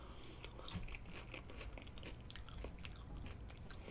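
Close, quiet chewing of cowboy steak and Cajun fries, with soft wet bites and light crunches repeating in a steady rhythm, with no talking.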